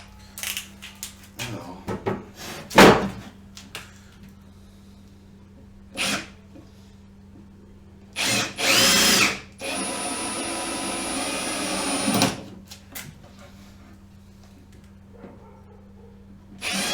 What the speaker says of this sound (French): Donc en biais, vous venez percer du premier élément vers le deuxième